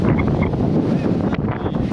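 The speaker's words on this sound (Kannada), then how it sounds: "ಏನು ಗಾಳಿ" Strong wind buffets the microphone at the Yedakumari railway tunnel viewpoint near Sakleshpura, a loud continuous roar with gusty swells and no clear talk.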